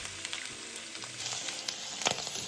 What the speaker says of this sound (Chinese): 倒入备好的花肉、香叶3片与八角3个，